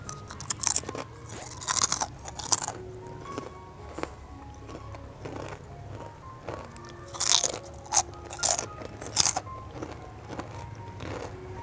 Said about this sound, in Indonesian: Yuk kita tes renyahnya.